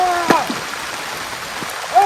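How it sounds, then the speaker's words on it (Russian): Heavy rain pours steadily during a thunderstorm, a dense continuous hiss throughout, with brief excited voices exclaiming over it at the start and end. "сильнее дождь"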